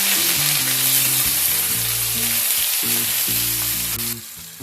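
Medium-sized onion pieces fry in oil in a pan after whole spices have been tempered for a dalia khichdi, hissing loudly and steadily throughout. Music plays underneath, and no voices are heard.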